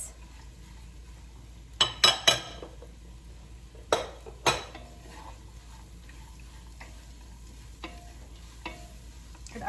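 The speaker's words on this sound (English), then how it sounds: "now I'm adding all the cabbage, and we're gonna let that cook for about 5 minutes" Purple cabbage added to a soup pot with leeks, followed by stirring: a few loud scraping clatters of utensil on pot, then quieter scrapes over a low steady cooking hiss.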